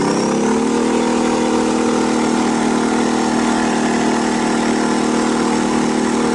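A Weekender 3500i portable generator runs steadily under load, its engine giving off a constant, loud, even drone with no pauses and no voices.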